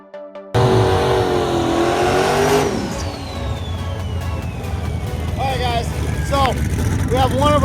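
A twin-turbo LS engine in a C2 Corvette race car revs loudly up close, then roars on at a heavy steady pitch with repeated chirping, whistling rises, while someone talks over it.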